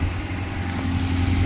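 A Honda Prelude V6 engine idles steadily with a low, constant hum and faint belt noise, close and continuous with no talking.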